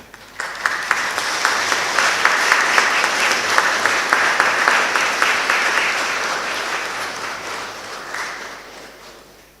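Graduates at a Griffith College Cork graduation ceremony applaud their families in a sustained, loud burst of crowd clapping that swells quickly and slowly fades toward the end.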